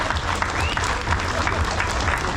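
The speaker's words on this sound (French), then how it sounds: "Félicitations les gars, vous pouvez les applaudir." A crowd at a motor show applauds the winners, with a dense, loud, continuous wash of clapping close by and low rumbling underneath.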